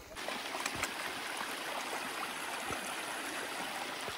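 Cold snowmelt river water flows steadily in a close, continuous rush with some gurgling, a broad unbroken wash of sound lasting throughout and without any voices.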